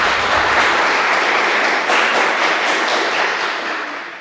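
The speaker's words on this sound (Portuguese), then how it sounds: "Uma salva de palmas aí para os irmãos que estão anotando os sermões" A church congregation gives a round of applause, a dense, even wash of many hands clapping that stays loud and gradually tapers off toward the end.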